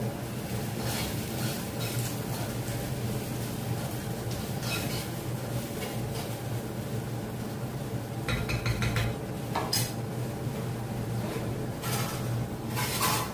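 Washed dishes and pots are set down and stacked in a home kitchen while onions fry, giving scattered clinks and a short cluster of metallic clatter over a steady background hum, with no talking.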